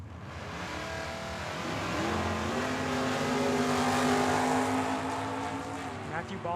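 Mustang and Monte Carlo drag racing at Tucson Dragway, engines loud and close with a rising, revving drone that builds then eases, alone without talk.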